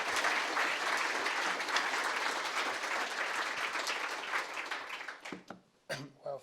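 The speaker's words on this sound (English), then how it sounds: "I'm not used to getting claps at the beginning" Audience applause fills a lecture hall as Professor Mark Brandon is introduced for a polar oceans and climate talk, steady dense clapping for about five seconds before thinning out and fading into near silence.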